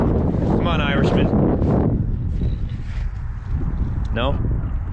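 A gust of wind buffets the microphone outdoors on lake ice during makeshift curling, a loud broadband rush that fills the first two seconds and then eases to a steady blustery roar, with brief voices calling over it.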